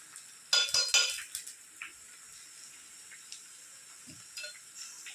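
Chopped ginger dropped into hot oil with mustard seeds on a low flame for mango pickle, a sharp clatter and brief sizzle up front, then scattered soft pops and clinks of a spoon against the pan.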